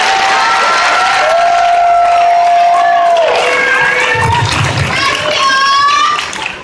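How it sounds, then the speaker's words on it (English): Applause and cheering at a graduation for 5th and 8th graders, with children's voices calling out over the clapping crowd, loud and continuous before fading at the close. "Give them another round of applause."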